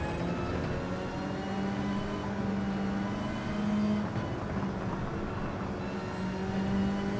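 A racing video game car engine with anti-lag drones steadily at high revs, with a sustained, buzzy tone that rises and dips slightly. It stays loud and constant, and no one talks.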